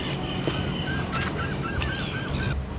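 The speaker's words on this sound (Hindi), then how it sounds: "यहाँ ट्रैफिक की आवाज़ नहीं, बल्कि सीगल पक्षियों की पुकार है।" Seagulls call over the coast at Kawhia, New Zealand, a series of honking, drawn-out cries repeating over steady background noise, with no talk.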